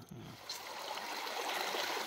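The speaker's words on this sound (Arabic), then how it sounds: "شوفوا الخوت الماء" A stream flowing in a spring countryside setting, a steady close trickle and gurgle of water with no talking.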